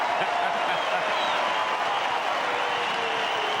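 A crowd at an AFL match between Brisbane and Port Adelaide in 2001 roars and applauds after a goal, a sustained dense cheer with a commentator talking over it.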